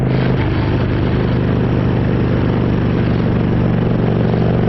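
Harley motorcycle engine running steadily on the road, a loud continuous low rumble with clattering mechanical texture throughout, no pauses.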